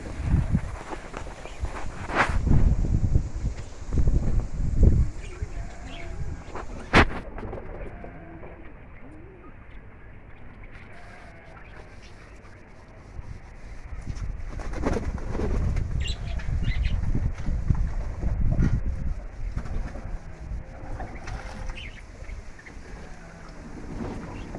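Young racing pigeons bathe in water, with wing flapping, splashing bursts and soft cooing at close range, loudest early and again midway.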